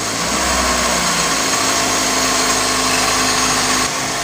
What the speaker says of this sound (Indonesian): Karena masih dingin dia RPM-nya agak tinggi ya.